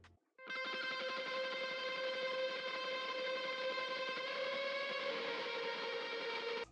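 Sustained post-rock style guitar ambience runs through a delay at the front of the effects chain, a dense wash of layered tones that swells in and holds steady at moderate level before cutting off, with no talking.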